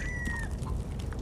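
A chicken in a VR video game gives a brief, fairly quiet cluck and a short call over low background rumble, with no talk.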